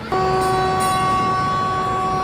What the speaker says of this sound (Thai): รถไฟเข้ามาแล้วครับ